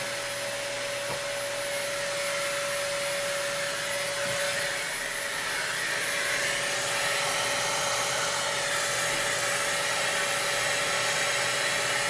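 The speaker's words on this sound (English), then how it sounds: "I'm gonna just try sucking the dust out with a vacuum" A vacuum cleaner sucks dust out of a PS4 console, holding a loud, steady whine with a constant high tone for the whole stretch and no talking.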